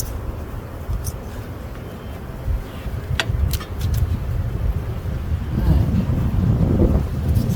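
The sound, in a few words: wind blowing at beehive inspection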